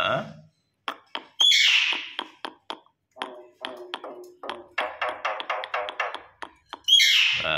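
A pet myna bird gives a rapid string of sharp clicks, chirps and whistled calls close by, with brief bursts of talking-style mimicry amid them.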